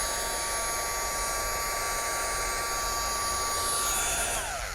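A handheld craft heat dryer blows steadily on freshly inked card, a loud constant whirring roar that holds for several seconds before starting to wind down at the end.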